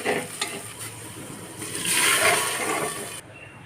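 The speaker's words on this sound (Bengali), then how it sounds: "এবার জল ঢেলে দেবো।" Water is poured into a pot of red lentils cooked with masoor dal, salt, turmeric and spice paste, hissing and sizzling against the hot mixture in a surging splash before stopping abruptly.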